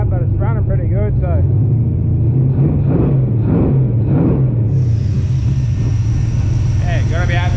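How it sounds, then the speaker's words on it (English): A Chevy pickup engine with a newly fitted cam idles in a steady, loud, low rumble throughout, with someone talking over it for the first few seconds and a higher hiss joining partway through. "it's running pretty good"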